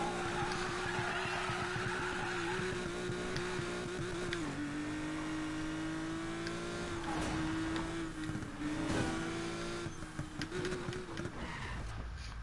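A car drifts in the racing video game Need for Speed Payback: a steady engine drone with continuous tire squeal runs loud and unbroken throughout, the pitch dipping and rising as the slide changes.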